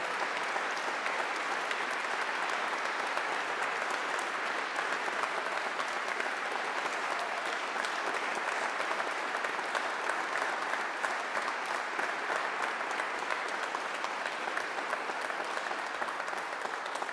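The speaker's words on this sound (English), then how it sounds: "please give a big round of applause for the Steel Battalion Commissioning Class of 2023" Long, steady round of audience applause for an Army ROTC commissioning class at its commissioning ceremony, many hands clapping evenly at a moderate distance with no talk over it.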